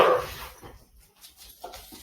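Dogs bark in one brief, sharp burst at the start, followed by a few fainter yips and whimpers at moderate distance.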